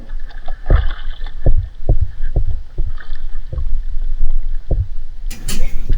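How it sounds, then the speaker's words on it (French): Paddles dip into water as a small boat is rowed at sea off Réunion during a wreck-diving outing, with repeated splashy strokes at a steady rhythm under wind noise, ending in a louder rush of water. "on va ramer comme ça"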